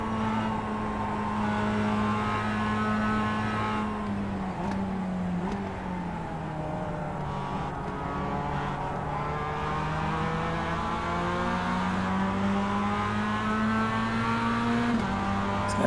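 A Mazda MX-5 race car in the iRacing simulator drones steadily at close range, engine pitch dipping and climbing through corners and gear changes for the whole stretch, with no voices over it.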